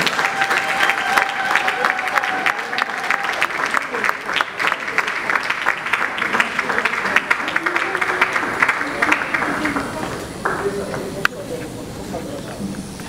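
An audience applauds at a book launch with sustained, dense clapping and some cheering. The applause thins out toward the end, and a voice talks over part of it.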